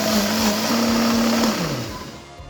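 A kitchen blender grinds garlic and coriander into a spice paste, a loud steady motor whine that drops in pitch as it winds down.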